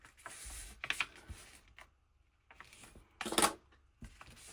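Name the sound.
folding a page of an antique book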